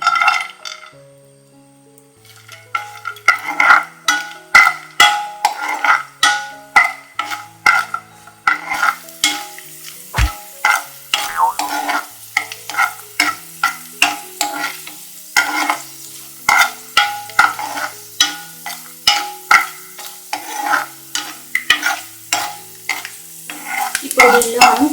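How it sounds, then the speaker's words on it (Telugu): Almonds and cashews fry in melted ghee in a pan, giving a steady close sizzle broken by frequent rhythmic stirring scrapes and clinks of the spoon against the metal, with no talking. "క్యాషు వేసి వేయించుకోవాలి"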